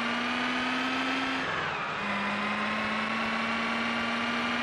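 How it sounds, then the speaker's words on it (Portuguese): An old bus engine revving in the BeamNG.drive driving game gives a loud, continuous droning whine whose pitch holds steady, dips sharply as it shifts, then settles again, with no talk. "Motor de ônibus, velho."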